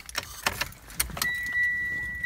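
A bunch of keys jangles and clinks in short bursts inside a car, then a steady electronic chime tone takes over.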